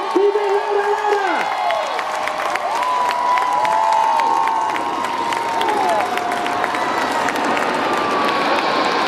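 Large airshow crowd cheering and shouting for the Royal Air Force Aerobatic Team, the Red Arrows, at Eastbourne, a steady loud roar of voices with whistles and children's shrieks running throughout.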